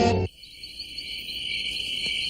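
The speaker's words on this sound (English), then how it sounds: "Hear that? Insects are everywhere." Insects chirp in a continuous high, steady trill, close and alone, following a brief loud burst at the start.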